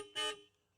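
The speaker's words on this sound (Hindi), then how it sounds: "अगर आप हॉर्न चलाओगे ना," A short single honk from an electric car's horn, loud and close, about a fifth of a second long, then quickly fading away with no talking.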